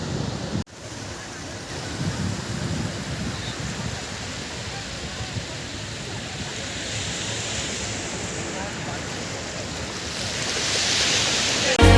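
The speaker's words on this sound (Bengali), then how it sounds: "এখানকার ঢেউটা তোমাদের দেখাচ্ছি" Sea waves at Tajpur beach roll in with a steady, broad roar mixed with wind buffeting the microphone, swelling louder near the end.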